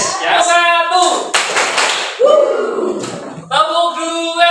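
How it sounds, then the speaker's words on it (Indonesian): Elementary schoolchildren in a religious studies classroom do a rhythmic clapping game, loud bursts of hand claps alternating with a teacher's voice and children's chanting. "Ya, tepuk tangan buat kalian"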